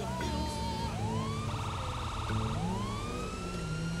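A police siren wails in a rising and falling cycle from a modded driving video game featuring the character Michael, loud and continuous over a low engine rumble, with no talking.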